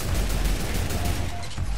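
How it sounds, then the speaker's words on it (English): An automated turret in a video game firing a rapid, sustained stream of loud, dense gunfire bursts, close and unbroken for the whole moment, with no talking. "Let me test out a turret."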